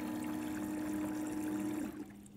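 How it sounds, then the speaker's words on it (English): A ClearVue pump drains water from a tank with a steady motorized hum and flowing, gurgling water, close and moderately quiet, then cuts off abruptly near the end. "ClearVue will quickly remove the water from the tank"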